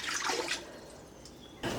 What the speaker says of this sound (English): I have the Instant Pot and I have a rack in here. I am going to add 2 cups of water.